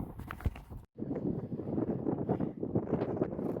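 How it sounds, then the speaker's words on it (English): Strong, blustery wind on top of a silo on a dairy farm buffets the microphone in a continuous broadband roar, with a brief dropout near the start before the gusts resume. "it is super windy up here on top of the silo"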